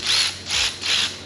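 Hand driver with an extension loosening bolts on a BMW F22 M240i, giving three evenly spaced ratcheting clicks, close and clear with no talk.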